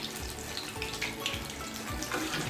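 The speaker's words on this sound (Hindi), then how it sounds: "इसको मैं डाल दूंगी कढ़ाई में। थोड़ा अच्छे से फ्राई हो रहे" Potato cheese pakoras fry in hot oil in a kadhai, giving a steady close hiss with crackling bubbles throughout, no voices.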